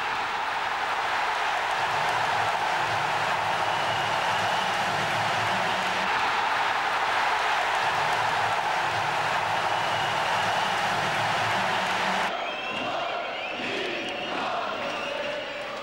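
A packed ice hockey crowd at Mannheim's Friedrichspark stadium roars in a dense, sustained wall of cheering and chanting that swells loudly, then shifts to a slightly thinner din near the end.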